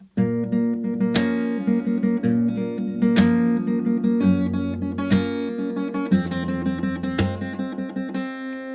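An acoustic guitar plays a song, its strings picked with two fingers in a quick, steady rhythm of bright plucked notes, close and clear with no talking.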